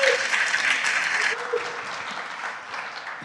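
An audience at a Latino and Hispanic business awards pitch night breaks into applause, a dense wash of many hands clapping that stays steady and then gradually tapers off.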